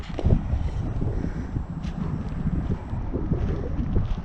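Strong, chilly gusts roar steadily across an outdoor spot, a continuous close buffeting rumble with broadband hiss and no voices.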